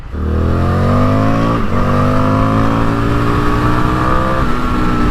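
An Indian FTR1200 motorcycle engine revs hard under acceleration, loud and close, its pitch climbing steadily with a brief dip at a gear change before rising again.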